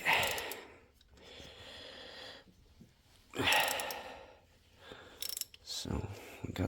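A wrench works a tight timing belt tensioner bolt on a 2008 Audi A4, giving several close, short bursts of metallic ratcheting and clicking separated by quiet pauses, with faint breathing between efforts.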